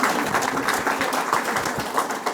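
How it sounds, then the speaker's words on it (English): Crowd applause at the 2022 West Haven St. Patrick's Day celebration, greeting the parade's grand marshal: a steady, dense wash of clapping from many hands that holds at an even level for the whole stretch, with no talk above it. "a big round of applause for our longest standing and our great honor"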